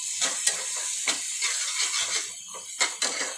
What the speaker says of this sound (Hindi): अब हम इन सबको अच्छे से मिक्स कर लेंगे।